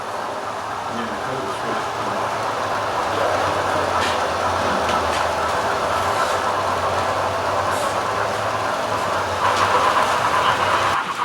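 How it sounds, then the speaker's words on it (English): A small N scale model train rumbles steadily along its track with a low hum and faint clicking, continuous and fairly close, getting slightly louder near the end. "And here comes Dick's wreck train, Pennsylvania wreck train."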